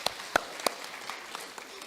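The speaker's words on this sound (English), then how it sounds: "let's give them a round of applause for social studies" Scattered claps ring out at a middle school awards ceremony, a few sharp distinct hand claps followed by faint sparse clapping in a quiet room.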